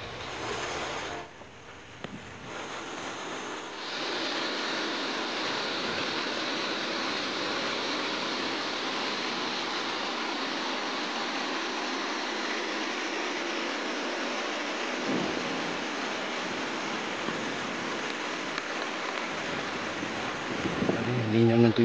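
Steady rushing water of the Seven Falls in Matanao, Davao del Sur, roars continuously, a broad hiss like a waterfall heard nearby, with no clear breaks over its length.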